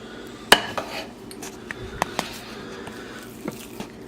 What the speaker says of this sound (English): Just gotta cover the whole thing with mashed potatoes.